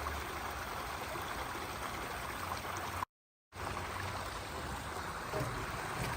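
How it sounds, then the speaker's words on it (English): Steady rushing of a stream flowing through a ravine, continuous broadband water noise heard up close with no talking, briefly cut out by a short gap midway. "Now you could probably hear water."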